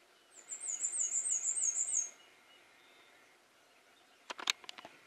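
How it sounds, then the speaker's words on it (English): A golden-cheeked warbler delivers one high, buzzy, wavering song phrase in Hill Country woodland, followed by quiet and then a brief cluster of sharp clicks or knocks near the end. "Golden-cheeked warbler."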